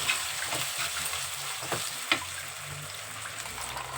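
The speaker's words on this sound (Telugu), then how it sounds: "ఇప్పుడు చికెన్ అయితే వేసేస్తున్నానండి. ఒకసారి కలుపుకుంటే" Chicken pieces sizzle and fry in a pan for a curry with flat bean seeds. A constant hiss of hot oil is broken by a few scraping stirs and soft clunks of the spoon, heard close up with no talking.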